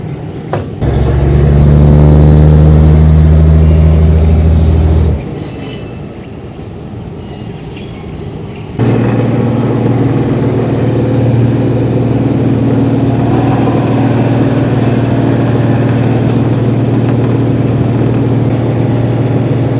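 A third class train running to northern Thailand rumbles loudly with a steady droning hum, breaks into a quieter rattling stretch midway, then settles back into a constant heavy mechanical drone with wheel and car noise.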